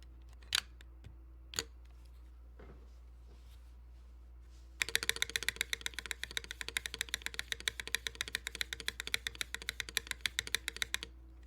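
A mechanical keyboard with a GMK spacebar is typed on rapidly: after a few isolated clicks, a steady stream of crisp, poppy keystrokes runs close-up and fairly quiet for several seconds, with no talking.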